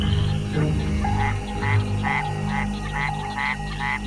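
A Mexican white-lipped frog calls at night in the jungle, giving a regular series of about eight short, bright chirps, evenly spaced and clear over a low hum of night insects.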